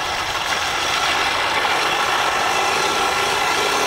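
Small RC truck slipping in mud with a faulty drivetrain, its electric motor whining steadily and loudly at close range, a continuous even drone with no talking.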